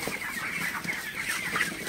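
Broiler chickens in a hot poultry shed give off a steady, overlapping chorus of clucking and chatter, close and continuous throughout, with no voices.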